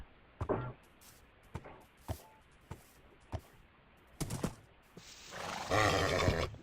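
A horse in the video game Minecraft gives short, faint neighing snorts and whinnies at intervals, ending in a longer, louder rasping whinny.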